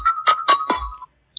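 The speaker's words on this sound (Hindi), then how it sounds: "बहुत ही खूबसूरत रिंगटोन है दोस्तों।" A 3D mobile phone ringtone plays alone, four bright bell-like tones in quick even succession, close and clear, ending with a short faint chime after a pause.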